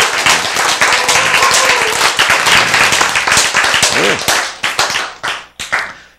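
Audience clapping hands during a Korean-language church sermon on healing, a dense burst of close applause that thins into a few scattered final claps at the end.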